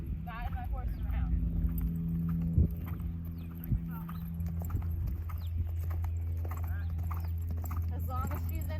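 A horse's hooves walking at a steady clip-clop during riding training, with a continuous low rumble and a rider's voice talking over the hoofbeats.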